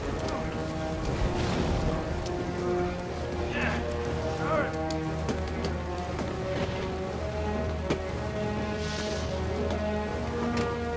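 Heavy hurricane rain pours in a steady roar during a dramatic film scene, with a dense, continuous wash of sound under a music score and occasional voices.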